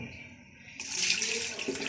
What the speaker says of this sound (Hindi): इसके अंदर मैं 2 लीटर पानी डाल